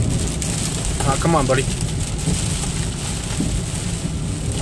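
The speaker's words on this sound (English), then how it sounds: "But it's constantly downpouring." A heavy rain downpour during a hail storm chase drums steadily and loudly on a vehicle, a dense constant hiss over a low road rumble, while someone speaks briefly over it.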